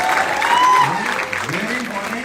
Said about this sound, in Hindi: तो अपने लिए एक बार जोरदार तालियां